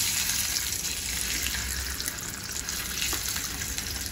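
Peeled boiled eggs frying with spice powder in a hot pan, a steady close sizzle and hiss that runs unbroken and fairly quiet throughout.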